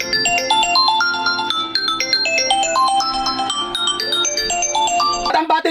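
Ringtone on an Infinix Smart 10 phone plays loudly from its speaker, a bright, busy melody of quick stepping notes running continuously for several seconds alone.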